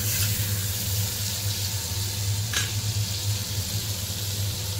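Green peas dropped into a hot pan on a gas stove give a steady, close hiss of sizzling that runs throughout, with a low continuous hum beneath and one brief sharp tick near the middle.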